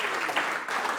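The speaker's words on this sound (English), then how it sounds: "Let's give Adam a round of applause." A seated audience applauds a guest speaker after his talk, a steady dense wash of clapping that holds at an even level throughout, moderately near and without voices.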